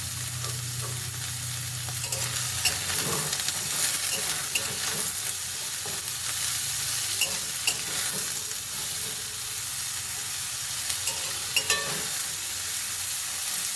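Pointed gourd (potol) with turmeric fries steadily in a pan, a dense continuous sizzle with occasional stirring scrapes and spatters throughout, close and alone with no voices.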